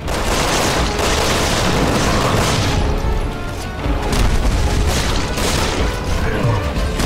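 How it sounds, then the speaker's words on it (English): Dense, continuous video game gunfire with heavy booms and crashing impacts, loud and chaotic throughout with no clear pauses. "I didn't know we were shooting already."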